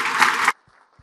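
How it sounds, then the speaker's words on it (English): A conference audience claps for a speaker in a short, dense burst of applause that stops abruptly after half a second, followed by a few faint thuds in a quiet room. "another round of applause, please, for Stephan."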